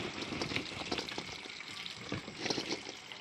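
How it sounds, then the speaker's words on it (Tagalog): Hot water poured over pili nuts from Catanduanes to soak them, a steady close-up gushing splash with bubbling texture throughout. "Lalagyan lang natin ng mainit na tubig mga kabady"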